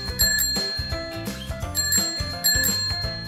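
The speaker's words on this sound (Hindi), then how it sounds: "अरे सुन, ये तो आइसक्रीम वाला है, भाग चिंटू।" A cartoon ice cream vendor's bicycle bell rings in quick, bright repeated dings, layered over a busy musical background with no voices.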